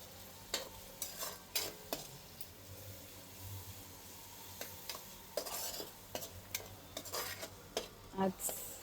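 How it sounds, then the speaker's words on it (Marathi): Onion frying toward golden brown in a pan, heard as a soft, low sizzle with intermittent scraping and clinking of a spoon stirring against the metal, fairly quiet and close. "कांदा फ्राय करून घ्यायचा आहे पहिला"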